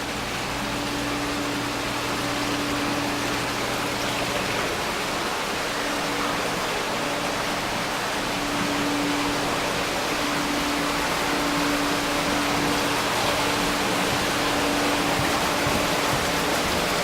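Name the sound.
water draining into sump of indoor aquaponics system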